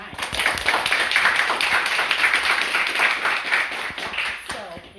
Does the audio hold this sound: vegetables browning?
no